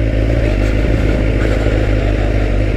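Motorcycle ridden on a short trip through town, its engine a loud, steady low rumble with clattering mechanical texture, close and continuous with no voices.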